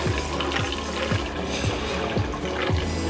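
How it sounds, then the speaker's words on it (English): Water runs steadily at the Roman hot spring baths in Bath, a close, continuous trickle and splash with soft rhythmic gurgles repeating throughout. "Actual bath water."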